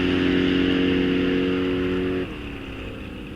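A muscle car on a drag strip at Rock Falls Raceway roars at a steady high-revving pitch, then the engine note drops abruptly as the throttle eases, continuing at a lower, quieter drone.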